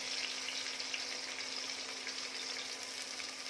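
Tomato softening in a hot pan for a plain turmeric khichdi, a steady, continuous sizzle of frying close by with no talk over it.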